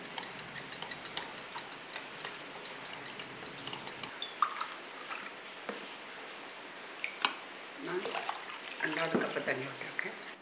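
A spoon stirs cornflour into water in a bowl for Bombay Karachi halwa, making rapid, regular clinking taps against the container that later turn into looser, wetter swishing and scraping. A voice talks over part of it.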